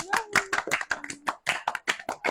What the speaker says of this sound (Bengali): সবাই হাততালি দে।